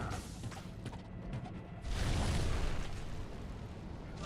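Fiery whooshing rumble from a fire trail in Diablo 2 Resurrected, a broad roaring burst that swells abruptly midway and holds loud and dense over low mechanical game noise, with no voice.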